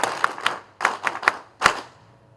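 Clapping from a gathered military audience honouring a departing general, a few scattered sharp claps in loose bursts rather than full sustained applause, fairly close and with no talking.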